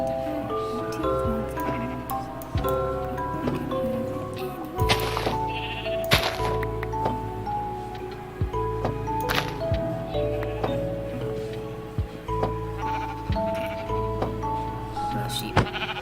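Sheep in the video game Minecraft bleat repeatedly, short nasal calls layered over steady background game music and a few clicks, with a person talking throughout.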